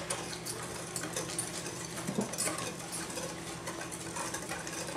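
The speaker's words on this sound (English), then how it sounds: "That's why you're whisking it." A banana pudding mixture is whisked in a pot with a steady, continuous scraping and rattling stir, fairly close and even in loudness throughout, with no talking.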